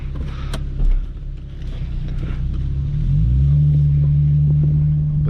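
An Infiniti G35 with a muffler delete drives along, a deep rumbling exhaust heard from inside the cabin that climbs into a louder, steady engine drone as it accelerates.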